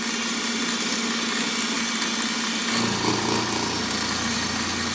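A half-inch end mill cuts metal on a milling machine, giving a steady high hiss and whir over a motor hum. Partway through, the tone shifts lower as the cut engages, and the sound stays continuous and close.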